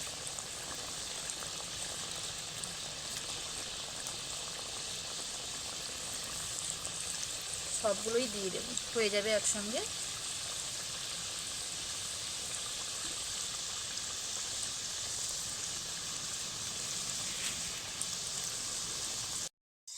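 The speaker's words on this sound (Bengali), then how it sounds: "হালকা আঁচে এগুলোকে ভাজতে হবে" Steady bubbling sizzle of nimki dough snacks frying in plenty of oil over low heat, continuous throughout, with a short stretch of speech in the middle.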